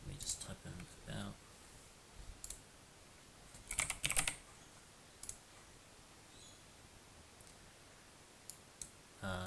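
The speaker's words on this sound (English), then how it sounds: "Let me just type in about." Someone types on a computer keyboard while setting up an operating system. Short bursts of quick clicking keystrokes come close by, separated by quiet gaps, with faint voice in the background.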